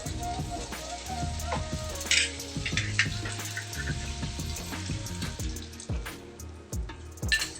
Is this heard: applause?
no